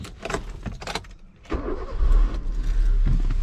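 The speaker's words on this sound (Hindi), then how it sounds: "पहले तो गाड़ी को स्टार्ट कर लेते हैं।" A 2013 Hyundai i20 Sportz diesel car starts up, a loud crank followed by the engine catching into a steady, close idle rumble after some brief clicks and rustles.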